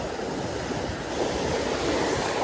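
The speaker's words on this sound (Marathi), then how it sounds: "किती प्रेशरने पाणी येतंय हो" Ocean waves surge and wash in on a Chennai beach, a loud, continuous roar of surf with wind buffeting the microphone, building slightly toward the end.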